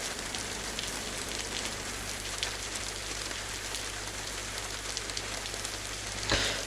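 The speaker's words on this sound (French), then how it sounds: "il y a la pluie" Rain falling in the video game DayZ, a dense, steady patter of drops on surfaces with a low constant hum underneath and no voices.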